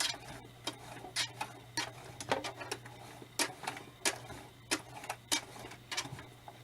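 A sewing machine, worked slowly by hand, back stitches a spirit doll pattern: irregular sharp mechanical clicks and ticks over a steady low hum, close and fairly quiet, with no talking.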